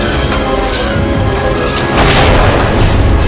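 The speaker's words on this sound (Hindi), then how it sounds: "अब देखते हैं इस तोप से निकला हुआ गोला कहां तक पहुंचता है" A loud, sustained booming roar of cannon fire with dense low rumble, swelling further partway through, no voices.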